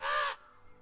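A single harsh crow caw from the film Maleficent, loud and close and lasting about a third of a second, then fading into near silence.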